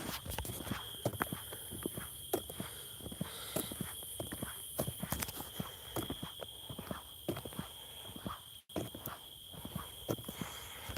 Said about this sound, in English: Is that a horse? Hey, horsey! Yeah, that's gotta be a horse.